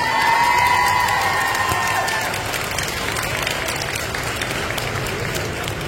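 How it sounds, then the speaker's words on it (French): A convention audience at Paris Manga 2025 applauds its guests in a steady, dense wash of clapping and cheers, loud and close throughout, with a brief sustained tone at the start. "on refait encore un tonnerre d'applaudissements pour eux"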